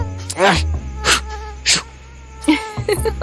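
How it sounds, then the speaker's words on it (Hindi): Mosquitoes buzz around a tent at an outdoor campsite. The whining comes in short, close bursts separated by quieter gaps, and other faint sounds run underneath. "मिस्टर तेज, ऐसे थोड़ी ना जाएंगे मच्छर"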